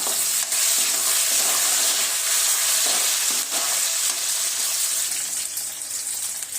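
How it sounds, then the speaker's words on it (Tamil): Green chillies, chopped onion, curry leaves and cumin sizzle loudly in hot oil, tempering a cabbage thoran, as a steady, continuous frying hiss fills the pan from close by, with no voices. "கறிவேப்பிலை எல்லாத்தையும் போட்டு நல்லா தாளிச்சிக்கலாம்."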